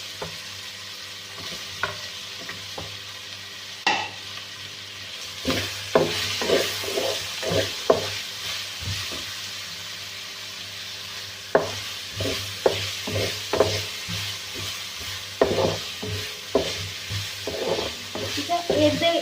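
Carrots and capsicum fry in a pan for Pakistani-style chicken macaroni pasta, with a steady sizzle broken by repeated scraping stirs of a spoon against the pan, close and alone without talk.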